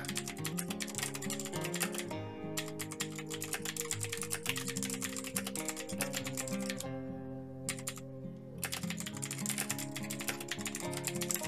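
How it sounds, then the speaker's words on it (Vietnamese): Rapid, steady typing on a computer keyboard, dense clicking keystrokes close up with brief pauses, no talking. "bây giờ mình sẽ gõ cho mọi người xem nhé"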